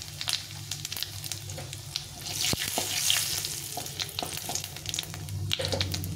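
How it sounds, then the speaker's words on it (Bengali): Taro and potato pieces frying in hot mustard oil with cumin, bay leaf and dried chilli, giving a steady close sizzle with occasional crackles and stirring clicks. "প্রথমে আমি কচুটা আর আলুটা একটু ভেজে নেব। তেলটা গরম হয়ে গেছে, আমি সরষের তেলে রান্নাটা করছি।"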